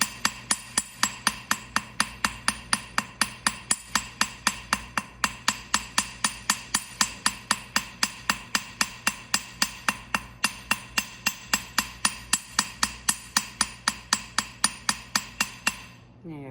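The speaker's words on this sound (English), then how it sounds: "I'm not just hammering it flat, I'm shaping." A metalsmith's hammer strikes a metal piece over and over to shape it, giving a fast, even series of sharp ringing blows close up that runs for about fifteen seconds before stopping.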